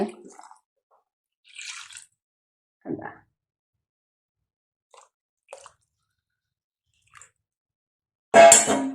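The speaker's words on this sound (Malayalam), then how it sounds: "നേരത്തെ നമ്മൾ മിക്സിയിൽ അടിച്ചു വെച്ചിരുന്ന ആ മുരിങ്ങയ്ക്കയുടെ സത്തുകളെല്ലാം ഇതിനകത്തോട്ട് നമ്മൾ ഒഴിച്ചു കൊടുക്കുകയാണ്" Blended drumstick extract is poured into a cooking pot for rasam, giving a few soft, scattered wet plops and splats with quiet gaps between them, then a louder splashing burst at the end.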